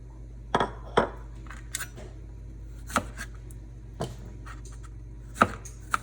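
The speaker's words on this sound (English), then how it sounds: "So we want to slice it not horizontally, but vertically like this." A knife slices strawberries vertically on a cutting board, giving sharp, separate taps at an uneven pace, close and fairly quiet, with a low steady hum behind them.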